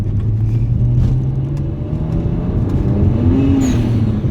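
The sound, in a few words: BMW 135i N54 car accelerating through gears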